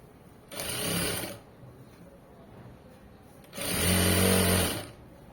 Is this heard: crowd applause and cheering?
no